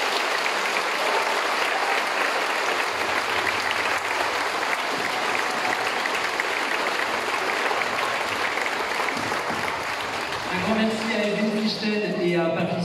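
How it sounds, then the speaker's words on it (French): A sustained crowd applauds steadily throughout, dense and continuous, with a voice starting to speak near the end as the clapping continues. "On peut les applaudir."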